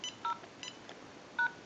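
Keypad tones from a General Electric 27909 cordless telephone handset under repair, a few short beeps in an irregular sequence with quiet gaps, faint against a low background hiss.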